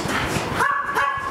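Dogs at a private home zoo bark and yip in quick, close bursts, with a brief whimpering, whining tone partway through.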